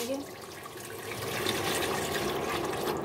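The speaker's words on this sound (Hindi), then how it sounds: "फिर हम इडली स्टैंड में पानी डाल देंगे" Water is poured into an idli steamer stand in a home kitchen, making a soft, steady splashing trickle that builds after a second and continues to the end.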